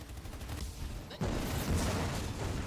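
Gunfire in a Halo Wars 2 battle, a dense rattle of rapid shots and muffled blasts that jumps louder partway through, with brief radio-style voice chatter.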